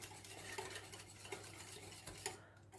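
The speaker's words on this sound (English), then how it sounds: "Just whisking that in." A whisk clicks and scrapes rhythmically against a pot while lemon juice is beaten into lemon butter, with quiet tapping strokes and a faint background hum.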